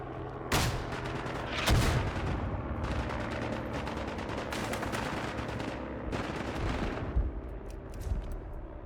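Battlefield gunfire in the World War I shooter Isonzo: bursts of rifle and artillery-like blasts, loud and near at the start, then a continuous dense rumble of distant shooting with further sharp reports throughout, no talk.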